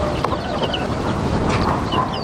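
Chickens cluck in a busy coop, one hen acting wild. Scattered short clucks and squawks rise over a steady, noisy barnyard background.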